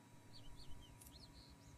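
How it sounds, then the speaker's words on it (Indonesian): Faint bird chirps and whistled tweets repeat at intervals over a low background hum, quiet and somewhat distant, with no talking. "Ini yang masukin suara burung punya siapa ya?"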